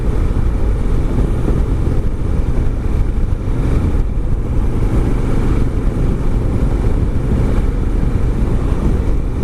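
A 2017 Honda Africa Twin DCT motorcycle rides on a fresh morning, its steady engine drone heavily mixed with loud, continuous wind rush across the microphone, with no talking throughout.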